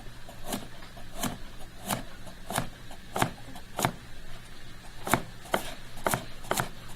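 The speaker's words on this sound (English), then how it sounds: "on your celery and your carrot, you will be using the stir-fry cut for the lab" Knife chopping celery and carrot into stir-fry cuts on a board in a foods class kitchen, a steady series of about a dozen sharp, close chops at an even rhythm over a faint hum.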